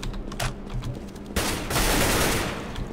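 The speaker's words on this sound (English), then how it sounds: "I'm shooting the more classic style Counter-Strike terrorists" Rapid Counter-Strike (CS GO) gunfire rattles out as terrorists are shot, scattered single shots giving way to a sustained loud fusillade of overlapping automatic bursts, with no talking.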